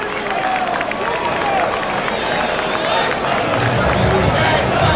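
A live crowd at the NFL draft, a steady loud roar of cheering and applause that swells slightly toward the end, with a voice speaking under the noise.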